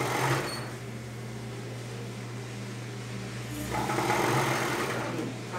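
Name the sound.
sewing machine stitching bias binding on a bra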